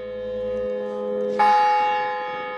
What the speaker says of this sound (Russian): Этот колокол прекрасен.